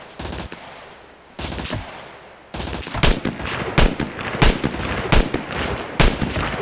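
Bursts of gunfire ring out in the survival video game Scum, several sharp shots and short volleys spaced irregularly, loud and close, with no talking over them.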